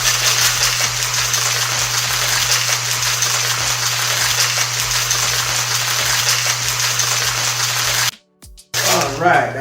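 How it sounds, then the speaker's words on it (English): A sealed cocktail shaker holding a Hurricane cocktail is shaken hard and fast, giving a dense, rapid rattling of ice over a low electrical hum, then it stops abruptly with brief handling sounds. "seal it, and give it a nice shake."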